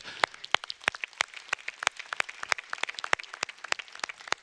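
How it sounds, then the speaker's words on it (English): A small group in a conference hall gives a round of applause at a high-level UN water panel, crisp separate claps close by in a quick, uneven rhythm with no talk over them. "give a round of applause for the Netherlands and Tajikistan"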